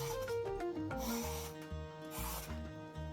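Ridge gourd skin being scraped off: quiet, repeated rasping strokes sit under steady background music.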